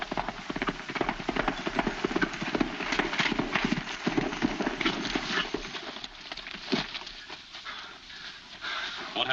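Horse hooves clip-clop in a steady, busy rhythm through a scene from an old Western film, with dog panting and whimpering mixed in over continuous background noise.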